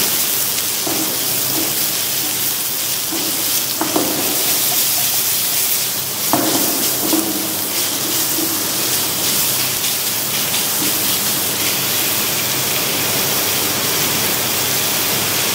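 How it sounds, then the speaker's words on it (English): Chopped onion hitting a hot pan with garlic for a corn, mushroom and spinach quiche filling, a steady loud sizzle with a few soft clatters of stirring, no voices. "Now you can add the chopped onion."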